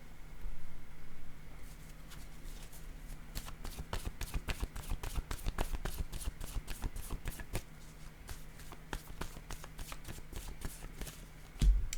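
Oracle cards riffled and shuffled close by, a quick rapid run of soft flicking snaps, then a card set down with a light tap at the end.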